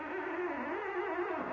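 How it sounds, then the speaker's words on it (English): A finger squeaks and drags across the surface of a car hood beside a pinstripe brush, producing a faint, continuous rubbing whine with slight wavering pitch, heard alone for a moment. "Now the noise you hear is the tension from my finger on the surface of the hood."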